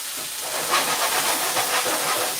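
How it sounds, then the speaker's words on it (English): A steady, bright sizzle hisses continuously as meat fries in a pan over medium-high heat, with no voices over it. "It's starting to come up to a sizzle."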